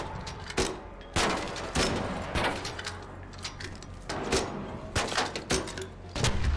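Bursts of gunfire in ARC Raiders as players take down the bombardier, sharp repeated shots in irregular clusters over a murky battle background, with no talking.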